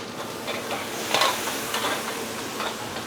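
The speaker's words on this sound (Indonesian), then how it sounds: "Nah ini gue lagi numis bumbu EXO sama bawang putih ya." Spice paste and garlic sizzle steadily in a hot pan while a utensil stirs and scrapes, with a few sharper clinks, close and continuous.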